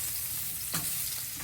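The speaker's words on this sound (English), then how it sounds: "What we're going to do is scrape the bottom of this pan to get a lot of the fond up, as well as stir these mushrooms in." Mushrooms sizzle steadily in an oiled pan that already holds browned fond, a dense close hiss throughout, broken by one quick scrape of a utensil across the pan bottom midway.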